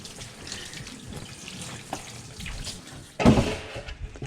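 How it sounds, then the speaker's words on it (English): Hands being rinsed under a running kitchen tap after folding sourdough, a close, steady hiss and splash of water with a sudden louder gush near the end, no talking. "Wash off your hands."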